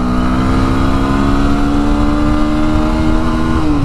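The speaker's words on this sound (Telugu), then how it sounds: "సో ఇప్పుడు మనం చూద్దాం ఎట్లా ప్రతి గేర్లో మన బైక్ ఎలా రెస్పాండ్ అవుతుంది అనేది" Bajaj Pulsar NS 160 BS6 motorcycle, a 2021 model, accelerating hard through the gears, its engine note rising steadily in pitch, loud and close, with no talking.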